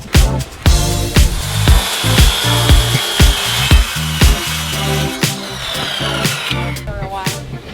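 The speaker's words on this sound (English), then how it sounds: "After I finished cutting the first board, I repeated the same process for the second one." A wooden board being cut by hand saw, with steady rhythmic strokes rasping back and forth, close and loud throughout, with no talking.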